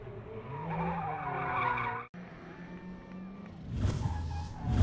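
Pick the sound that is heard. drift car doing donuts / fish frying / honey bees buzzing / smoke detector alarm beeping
drift car doing donuts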